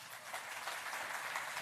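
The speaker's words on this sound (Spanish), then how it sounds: "un aplauso para Laura Morán" Faint applause from an audience welcoming a speaker at a science outreach talk, a soft, even wash of clapping heard from a distance for a short moment.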